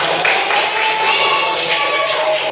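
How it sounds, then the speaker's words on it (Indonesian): A classroom of students clapping their hands together, a dense, continuous patter of many claps at close range with voices mixed in. "Ya, kita kasih tepuk tangan semuanya."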